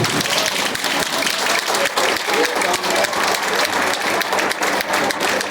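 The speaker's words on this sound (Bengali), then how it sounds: "বাচ্চাদের জন্য একটা জোরে হাততালি।" An audience applauds children after a stage performance, a loud, dense, unbroken wash of clapping from many hands that lasts throughout.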